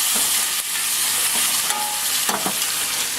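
Steak sizzling and frying in a hot cast iron skillet, a steady broadband hiss with occasional crackles and stirring scrapes, close and continuous with no talking.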